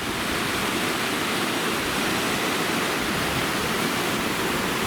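Mountain waterfall near Tamarack Lake, a steady, loud broadband rush of falling water that holds constant throughout with no pauses and no voices.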